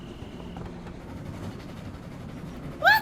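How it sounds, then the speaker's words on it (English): A train rumbles past in the video game Last Stop, a steady low clatter of wheels and carriages at moderate distance, ending with a brief bright tonal sound. "They have trains here?"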